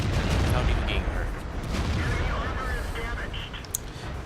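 A tank cannon shot rings out in a World of Tanks battle, the Type 59 in play, sounding loud and boomy at the start over dense, continuous rumbling engine and combat noise.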